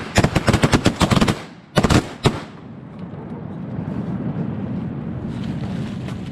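Shotguns fire from a boat at a duck while hunting in West Tennessee: a rapid volley of close, loud blasts, then a few more shots, and finally a steady engine-like rumble continues.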